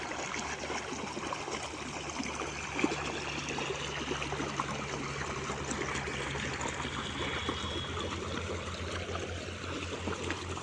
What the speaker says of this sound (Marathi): हे आपण पाणी बघू शकतो. पाण्यात प्रेशर आहे बघा.